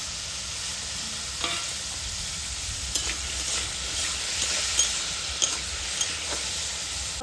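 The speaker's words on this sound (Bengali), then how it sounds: "মাঝারি সাইজের একটা আলু এইভাবে পিচ পিচ করে কেটে নিয়েছি প্রথমত ভেজে নেব" Medium potato cut into pieces fries in hot oil, a steady bright sizzle with scattered clicks of a spoon or spatula stirring, close by and uninterrupted by speech.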